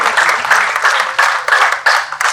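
An audience at a Lucknow club event for welcoming a new chairman applauds after an inspirational speech; loud, dense clapping swells in waves for a couple of seconds with no voices over it.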